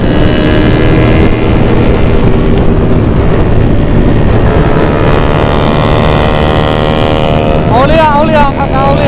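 A Kawasaki ZX-25R motorcycle engine at high revs on a fast night ride through Banda Aceh, a loud sustained whine with a rising gear-change sweep near the end, heard close and over wind.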